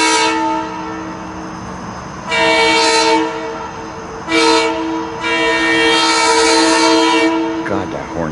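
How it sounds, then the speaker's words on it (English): A SEPTA commuter train heading to West Trenton sounds its horn at Woodbourne Station: a loud multi-tone blast, then two more separated bursts and a long final blast, with the train passing and brief rattling at the end. "God, that horn sounds like crap."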